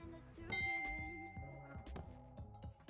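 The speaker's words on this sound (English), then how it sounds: "Just a lovely bell." A soft note-block bell chimes for a treasure drop in Minecraft's Decked Out game, ringing clear and faint over quiet clicks and light game sounds.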